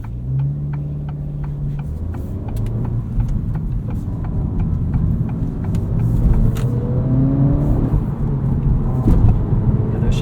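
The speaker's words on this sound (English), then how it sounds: "You're going to accelerate away from those lights a little bit quicker than you think." A 2023 Acura Integra with manual transmission accelerating in normal mode, heard from inside as a steady engine drone rising in pitch with a gear change partway, under road rumble, no talking.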